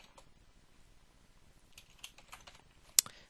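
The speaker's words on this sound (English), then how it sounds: "So I'm going to type first name" Keys on a computer keyboard clack in a short, uneven burst of taps, fairly quiet and close, with one sharper keystroke near the end and no voices.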